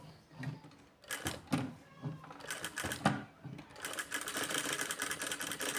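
A sewing machine runs in short bursts while stitching along a marked line during practice stitches, pausing and restarting as the fabric is turned, then settling into a steadier, faster run toward the end.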